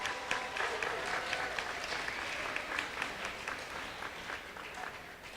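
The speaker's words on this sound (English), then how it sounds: "So give yourselves a round of applause." A conference audience of students and teachers applauds, a steady wash of many hands clapping at moderate distance that gradually tapers off.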